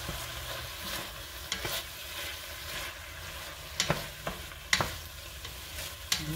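Ground beef seasoned with Worcestershire sauce sizzles and browns in a pan, a steady close frying hiss broken by a few sharp scrapes and knocks of a stirring utensil.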